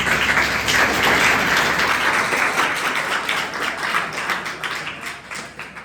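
An audience at a school farewell party claps in a steady round of applause, dense and fairly close, fading slightly toward the end.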